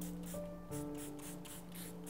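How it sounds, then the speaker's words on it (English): Several short hissing bursts from a handheld spray bottle misting water onto a canvas during acrylic abstract painting, sounding close over a faint background hum. "using my water bottle and just kind of spraying a little bit"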